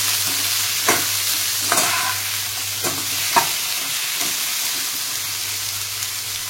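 Tomatoes and cashews fry with salt in a pan, a steady loud sizzle broken by several sharp scraping strokes of a stirring spoon at irregular intervals, with no voices.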